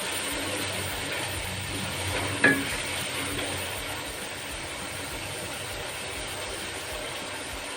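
Chopped tomatoes for beef pulao frying in a pan, a steady faint sizzle with one brief clatter early on, no voices.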